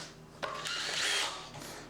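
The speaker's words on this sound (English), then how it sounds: "The drill bit is so good that it bites through it" Power drill boring through metal in a car's engine bay while electronic boxes are being mounted, a brief burst then a sustained close, loud whine for about a second before winding down.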